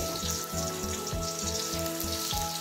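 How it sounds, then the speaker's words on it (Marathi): Carrots fry in hot oil for a veg matka biryani, giving a steady, close sizzle and crackle with faint rhythmic stirring or scraping underneath, no voices. "तेल गरम झाले, मी गाजर पहिला तळून घेते"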